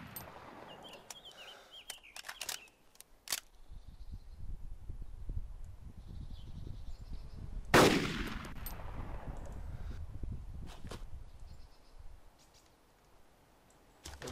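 Gunfire in the Arma 2 DayZ Epoch game: a few sharp shots and clicks early on, then one loud close blast midway with a rumbling tail, amid ambient game noise and faint bird calls.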